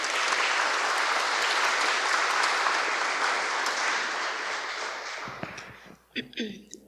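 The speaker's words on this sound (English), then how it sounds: "If we give Ruby a round of applause for her success in her education." Steady applause from a crowd at a memorial ceremony for fallen heroes in Monterey County, holding for about five seconds before tapering into a few last claps and a voice starting to speak.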